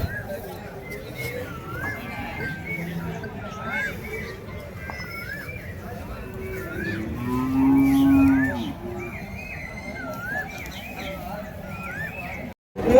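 Native cattle at the Madrapalli cattle market; one clear, drawn-out moo rises near the middle over a busy outdoor background of chirping birds and distant murmuring voices.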